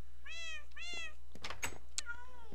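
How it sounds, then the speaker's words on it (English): Minecraft video game cats meowing, two clear drawn-out meows in a row followed by a shorter, fainter mew, heard close and alone over a low steady hum. "Minecraft cats are cute, but she just gets way too many cats"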